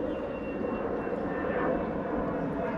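An airplane flies overhead, a steady broad engine rumble that swells slightly midway and stays continuous throughout.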